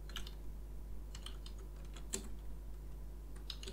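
Typing on a computer keyboard while entering a password in a Vim editor: quiet, irregular clusters of key clicks over a low steady hum, with a few sharper taps near the end.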